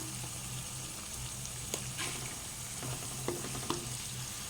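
Salted onions fry toward golden in a pan, a soft, even sizzle with occasional sharper spatula taps and scrapes as they are stirred, no voices.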